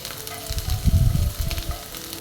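Finely chopped aromatics hit hot oil for hotel-style pepper chicken, a brief close sizzle that swells and crackles, then settles.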